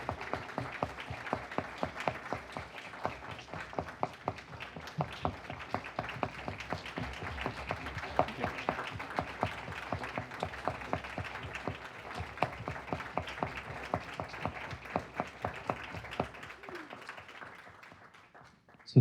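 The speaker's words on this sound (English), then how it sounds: "just one last round of applause" A closing round of applause for panelists at a Texas youth gun violence prevention forum, steady distinct clapping from a modest audience that continues for many seconds before thinning out near the end.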